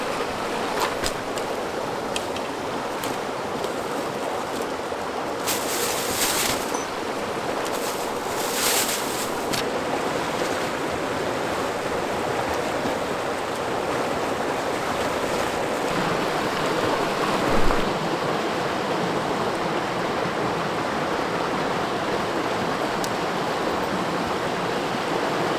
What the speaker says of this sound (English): I know it's probably really loud with the stream behind me